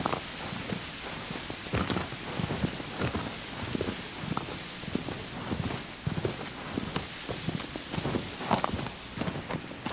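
Horse hooves clop at a walking pace in Shadow of the Colossus, a steady run of soft, uneven hoof falls that carries on through the whole stretch over a faint background bed.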